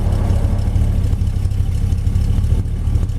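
A 1955 Chevy Bel Air with a 350 V8 idles close by, a steady low rumble with a loping pulse and slight clatter throughout, no speech.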